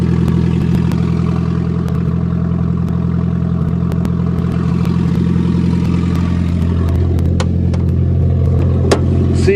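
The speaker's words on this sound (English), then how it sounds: "Nice redneck exhaust system too." An old van with a homemade, makeshift exhaust system runs steadily at idle, a loud close engine drone with a rattly, clattering edge throughout, no voices.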